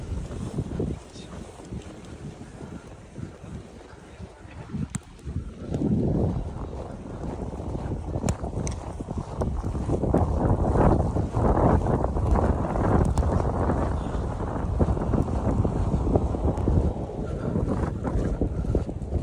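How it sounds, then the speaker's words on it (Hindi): A strong, cold snowstorm wind blows in Norway, roaring and buffeting the microphone. It starts moderately and surges louder after a few seconds into a steady, heavy rush, with no talking. "तो यार ये जो हवा चल रही है ना, हवा थोड़ा सा काम ख़राब करती"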